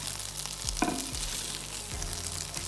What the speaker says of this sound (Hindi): अब मैं इसे ऑयल में अच्छी तरह भून लूँगी, फ्राई कर लूँगी